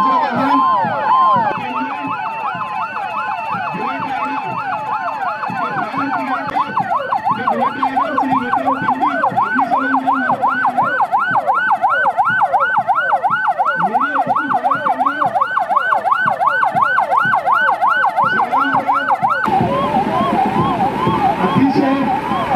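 Emergency vehicle sirens wail continuously at a Republic Day parade on a police ground in Nanded, loud and near, several overlapping rising-and-falling tones with vehicle noise beneath, the mix shifting abruptly near the end.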